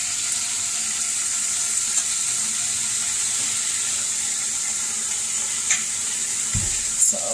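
Very thin meat slices sizzle steadily in a hot pan, a constant bright hiss with a few small pops and a soft clatter near the end; nobody speaks.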